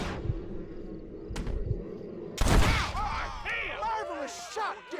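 Gunshots in the Red Dead Redemption video game ring out as a few sharp cracks, with one loud blast near the middle. Game voices and other sounds carry on around them.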